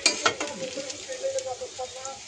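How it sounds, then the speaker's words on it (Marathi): Garlic sizzles in a pan, a steady soft frying crackle with a few stirring scrapes and clinks near the start, close and moderately quiet throughout with no talking. "एकदम लसूण जास्त नाही फ्राय होऊ द्यायचा"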